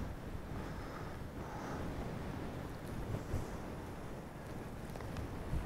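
Strong wind buffets a hilltop in the Peak District, a loud, constant roaring rush across the microphone with no speech heard.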